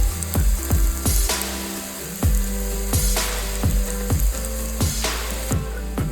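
Turmeric and ground spices frying in hot oil for a spicy crab curry in a home kitchen, a steady close sizzle broken by regular, rhythmic knocks and scrapes of a spoon stirring the pan, with no voices.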